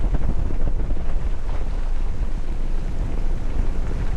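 Strong wind at a lake shore during high tide buffets the microphone in a loud, continuous low roar, with rushing gusts and no voices.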